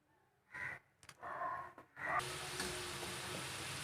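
Cut potato fries dropped into hot oil, a few short splashy bursts followed by a steady close-up sizzle and bubbling hiss. No voices.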